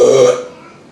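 A loud, close woman's burp that swells for about a third of a second and then trails off into a fading, breathy tail, heard alone with no talk.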